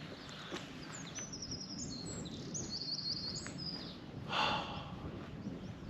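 Birds sing outdoors on a hillside during a wild camping trip in the Peak District, thin high chirps and short song phrases scattered over steady wind-like background noise, with a louder burst of calls near the end.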